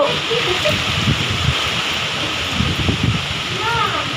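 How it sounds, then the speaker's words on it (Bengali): Heavy rain pours during a strong storm, a steady, loud wash of hiss that runs through the whole stretch while people talk over it. "খুব বৃষ্টি হচ্ছে"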